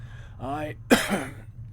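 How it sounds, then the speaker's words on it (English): A brief bout of coughing from a character in Planescape: Torment: a short throaty voiced rasp followed by one sharp cough and a trailing breath, close and fairly loud. "the movement suddenly sends him into a bout of coughing"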